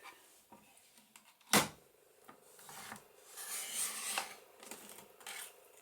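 Paper is cut into a one-inch strip for a junk journal pocket, giving a sharp close snip followed by soft scraping and rustling strokes, quiet and without voices.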